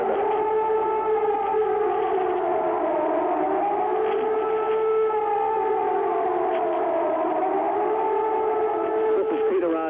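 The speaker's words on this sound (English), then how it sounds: "Bob, as you can hear, there's an air raid siren. This is the attack warning siren." An air raid attack warning siren wails over Baghdad, its two-tone rise and fall sweeping slowly and continuously, loud and unbroken for the whole stretch.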